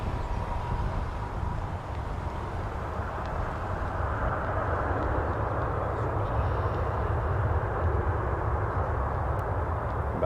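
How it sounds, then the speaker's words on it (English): An Air Canada Rouge Airbus A319 arriving from Miami lands at Toronto Pearson, its engines a steady, broad roar that holds evenly throughout at moderate distance. "From Miami, Rouge 1643 on an A319. They're still loud."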